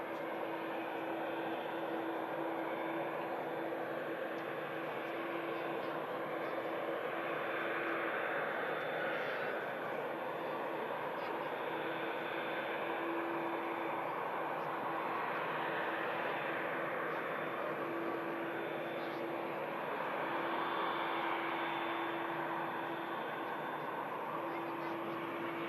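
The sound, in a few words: ATR turboprop landing at Manchester Airport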